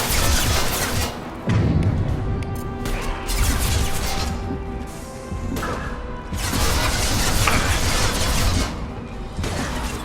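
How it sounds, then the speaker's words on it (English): Crates of unstable materials explode during Mass Effect 2 combat, producing loud crashing smashes and heavy thuds within a dense, continuous wash of battle noise. "A misplaced shot could cause a significant explosion."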